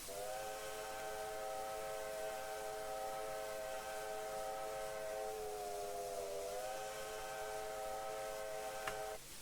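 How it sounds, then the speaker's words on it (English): A chime whistle on an LNER A4 steam locomotive in Train Simulator Classic blows a long, loud, multi-note blast for about nine seconds. The pitch dips and wavers briefly near the end before steadying, and a small click closes the blast. "Whistle 5 sounds like this."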